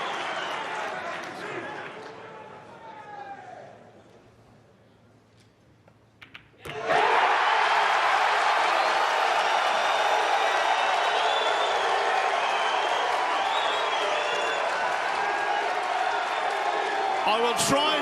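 A Mosconi Cup pool match crowd goes quiet, then bursts into a sudden loud roar of cheering and applause that stays steady and sustained for over ten seconds.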